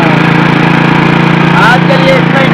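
An old kick-start motorcycle engine runs after its first kick, a steady, loud, close putter with an even idle rhythm throughout.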